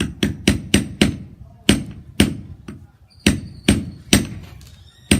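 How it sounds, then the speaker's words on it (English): A hammer strikes jewelry in a series of about a dozen sharp, loud, close taps at an uneven rhythm, each ringing briefly before the next blow. "So I have the hammer right here, and I'm gonna just"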